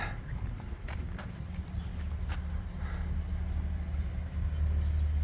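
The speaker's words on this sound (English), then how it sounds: "this is the donkey hangout" Hooves of donkeys clip-clop steadily along a stone path at Petra, a continuous patter of steps close by under a low rumbling background hum.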